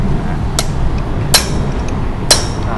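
A special driver tool hammers a fork seal into a Honda CB650F fork leg: three sharp, isolated metallic strikes about a second apart, close and clear over a low workshop background.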